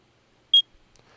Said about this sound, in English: As the spider gets closer and closer to you, it beeps.